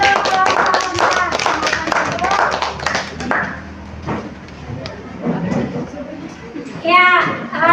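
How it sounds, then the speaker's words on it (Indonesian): An audience claps for a student group after a classroom discussion presentation, with loud, dense applause at the start that thins out and fades. Children's chatter and a voice run under and after it, and the clapping swells briefly again near the end. "berikan aplaus untuk kelompok"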